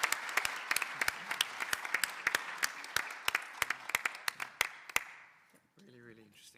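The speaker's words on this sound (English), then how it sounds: "A big round of applause." A conference audience claps after a talk on ICT-based solutions, with sharp individual claps standing out over a softer crowd wash before the applause fades and a voice begins speaking.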